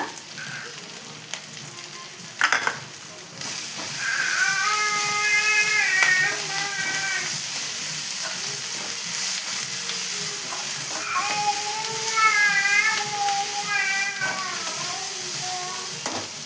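Curry leaves sizzle and crackle steadily in hot oil, close up, with occasional spatters and the clink of a utensil against the pan.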